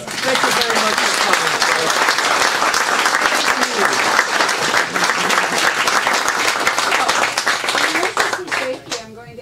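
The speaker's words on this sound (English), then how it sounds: "give Kent a warm round of applause" A loud, full round of applause from an audience at an author's book event, dense clapping that holds steady for several seconds with chatter underneath before it tapers off at the end.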